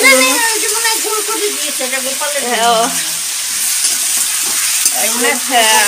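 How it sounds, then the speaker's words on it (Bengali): Potato pieces frying in oil to go with fish, a steady close sizzle and crackle with voices talking over it throughout. "মাছের জন্য আলুটা ভাজা হচ্ছে"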